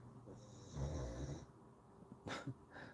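A sleeping dog snores softly nearby, a low rumbling inhale with a wheezy nasal whistle, followed by quieter breathing and a short snort.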